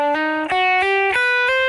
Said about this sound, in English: Hammer-ons.